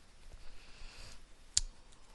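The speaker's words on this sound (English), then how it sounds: "Right click." A single sharp mouse click stands out against a quiet room, brief and close, with faint background hiss around it.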